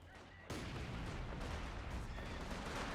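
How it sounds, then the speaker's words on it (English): Mortar shelling in Company of Heroes 2, a dense burst of rumbling battle fire that kicks in suddenly after a quiet half-second and keeps rolling loudly with overlapping impacts. "Mortar shelling now."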